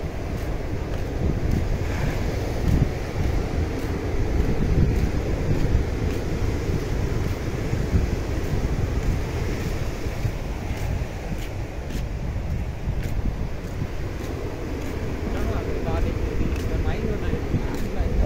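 Sea waves and strong wind along the coast near a border guard post by a lighthouse, a loud continuous roar of surf and gusting microphone wind while someone talks over it.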